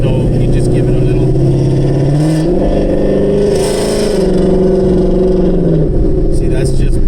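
A 2018 Ford Mustang GT with a Borla S-Type exhaust revs loudly and steadily, its deep burble rising and falling through several gentle throttle blips, close by and continuous throughout with a voice talking over it.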